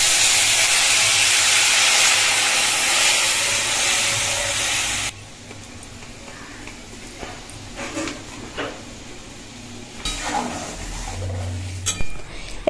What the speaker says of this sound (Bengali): ঝোলটা কত সুন্দর করে ফুটে গেছে